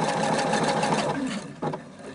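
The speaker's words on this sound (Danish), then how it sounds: "Det vil altså sige, at maskinen syr selv sideværs." A sewing machine stitches sideways across a trouser leg, patching it without turning the fabric. The needle runs in a steady, fast mechanical whir close by, with a brief change in rhythm near the end.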